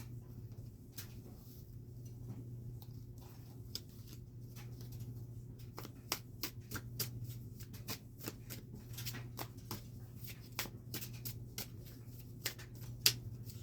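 Tarot cards being shuffled by hand, quiet at first and then a rapid, crisp riffle of paper slaps and flicks, close and soft over a low steady hum.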